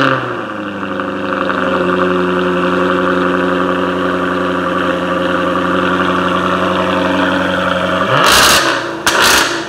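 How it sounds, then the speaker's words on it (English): A 2015 Jaguar F-Type R engine on a cold start holds a loud, close, fast idle with a steady droning tone, then gives a couple of brief harsh bursts near the end. "This is a cold start up on a 2015 Jaguar F-Type R."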